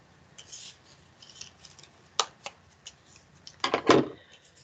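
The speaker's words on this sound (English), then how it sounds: "now I'm going to cut these circles out" Scissors snip out paper circles for finger puppets, a scatter of quiet, close crisp cuts with a few louder snips near the end, alone without talk.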